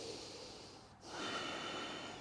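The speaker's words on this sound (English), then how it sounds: "One more big breath in." One deep breath during a gentle yoga flow: a soft, drawn-out exhale that pauses briefly, then a fuller inhale, close and quiet with no talking.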